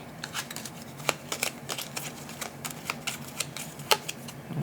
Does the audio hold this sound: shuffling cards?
yes